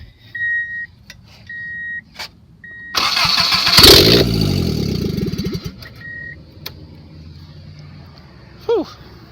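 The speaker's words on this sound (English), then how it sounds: "We're going to start the car. It's going to be pretty freaking loud" A Subaru engine with a manual swap cranks and roars loudly to life, revving for a few seconds before settling, with intermittent electronic beeps before and after.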